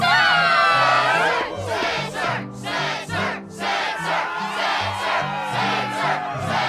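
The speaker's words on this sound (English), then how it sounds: "Yes, the crowd is fired up," Arena crowd from the video game Kingdom Hearts II roars and cheers continuously, a dense wall of shouting voices under steady game music, loud and sustained throughout.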